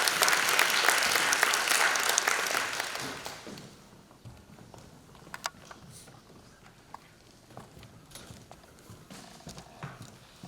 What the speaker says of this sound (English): Again, a round of applause for Nikesh Kotecha.